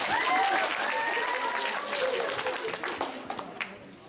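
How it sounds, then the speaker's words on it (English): An audience at a school political debate applauds in a steady burst of clapping with a few whistles, then the clapping thins out and fades toward the end. "Now's the time to applaud."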